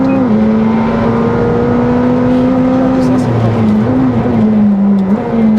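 McLaren 765LT Spider sports car accelerating out of a track corner, a loud steady engine drone rising and dipping slightly across the whole stretch, with a voice talking over it.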